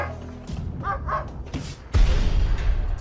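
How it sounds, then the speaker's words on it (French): A pet dog barks in a residential area where a polar bear has wandered close, several sharp barks and yips near and loud, with thuds and a burst of louder commotion partway through. "Un habitant entend son chien aboyer"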